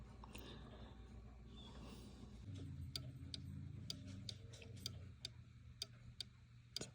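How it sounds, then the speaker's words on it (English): A Friesland clock ticks evenly after its pendulum is adjusted, giving a steady series of sharp, faint ticks that emerge from a low background hum and carry on at a regular beat. "you can probably hear a relatively even tick happening now"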